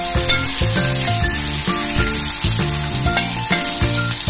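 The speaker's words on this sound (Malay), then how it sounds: "kita akan menumis irisan bawang merah, bawang putih dan juga halia" Shallots, garlic, ginger and lemongrass sizzle steadily in hot oil, a constant bright hiss running throughout beneath prominent rhythmic background music.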